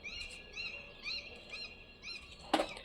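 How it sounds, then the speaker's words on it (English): Several birds chirp outdoors in a quiet garden, repeated short high tweets in bursts every half second or so, fairly close, with a sharp brief knock near the end and no talk. "The birds are chirping, you can hear the sound of there"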